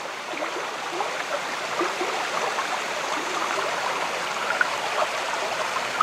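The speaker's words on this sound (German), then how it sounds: "Hier ist wieder ein kleiner Wasserfall zu sehen" Steady rushing water from a small waterfall in a gorge fills the scene with a continuous broadband hiss at a moderate, even level, with no voices.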